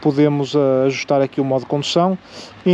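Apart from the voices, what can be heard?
No everyday noises stand out.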